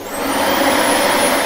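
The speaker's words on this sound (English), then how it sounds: "That's the vacuum cleaner, says Chloe." A cartoon vacuum cleaner whirs at night with a loud, steady motor drone that rises slightly and holds, heard alone.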